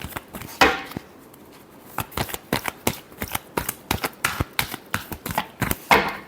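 A tarot deck is shuffled by hand, giving a rapid series of crisp card riffles and slaps in a loose, regular rhythm, close and fairly loud, without voices.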